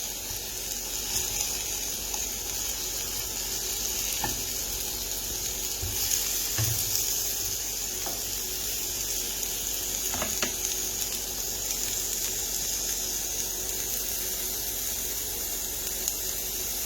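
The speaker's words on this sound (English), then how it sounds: "the potatoes are all completely covered in oil, I kind of just stop stirring so they can get brown." Sweet potatoes frying in oil in a pan for a hash give a continuous, even sizzle with occasional faint clicks and soft pops throughout.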